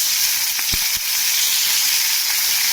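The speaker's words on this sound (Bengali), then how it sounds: "তো তেলটা গরম হয়ে আছে, আমি এক এক করে কই মাছ তেলে দেওয়া হচ্ছে, ভাজবো।" Koi fish sizzle and spit steadily in hot oil, a dense, close frying hiss broken by a few sharp pops and crackles near the start.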